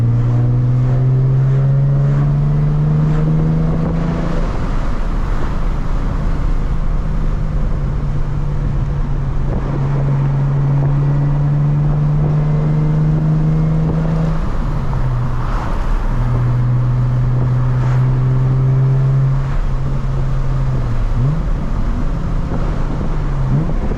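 Nissan 350z driving and accelerating, a steady loud engine drone with rising pitch sweeps as it pulls through the gears, wind noise over the microphone, no talking.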